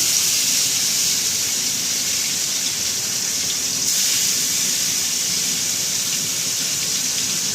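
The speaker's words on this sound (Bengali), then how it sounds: "এবার আমি আস্তে আস্তে একে একে করে মাছগুলো এই তেলের মধ্যে দেব।" Bhola fish pieces fry in hot, smoking oil, giving a loud, steady, broad sizzling hiss that carries on without a break.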